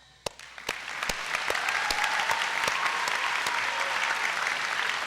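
Audience clapping at a high school senior celebration, starting with a few sharp separate claps that quickly swell into steady, sustained applause across the room.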